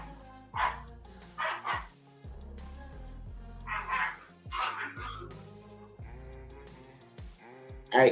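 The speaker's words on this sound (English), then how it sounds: "The pups are going crazy, y'all." Several pet dogs barking in sharp, excited bursts at close range in a home, with yips between them, over a steady background of sports broadcast sound.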